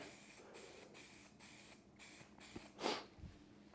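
Spray paint hisses from a nozzle onto a sign in repeated short bursts separated by brief pauses, quiet and steady.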